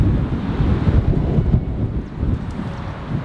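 Heavy outdoor wind buffets the microphone in a steady low rumble with gusty fluctuations, no voices audible.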